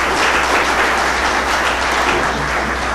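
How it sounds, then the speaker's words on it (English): Dense audience applause at a talk, many hands clapping in a loud, continuous wash that holds steady throughout. "Give yourselves a hand."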